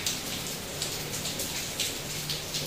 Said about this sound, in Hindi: कितनी तेज़ बारिश लगी हुई है